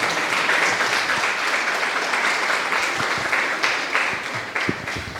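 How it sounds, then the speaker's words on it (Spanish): A church congregation applauds during a worship service, a full, steady burst of many clapping hands with a few sharper individual claps near the end, heard without talk. "Damos aplausos al Rey de Reyes"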